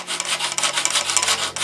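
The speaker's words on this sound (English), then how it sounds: "I'll take a little sanding file and sand it perfectly straight." Rhythmic rasping strokes of a small sanding file on a wooden wing part, close and steady, back-and-forth scrapes repeating quickly without pause.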